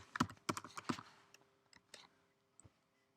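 Quick bursts of keystrokes on a computer keyboard, a cluster of rapid clicks followed by a few sparse, lighter taps, close and quiet with no talking.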